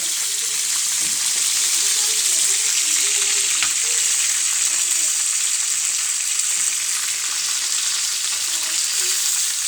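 Beef reshmi kababs shallow fry in oil on a tawa, giving a constant bright hiss and crackle close up, steady and loud throughout with a faint clink partway.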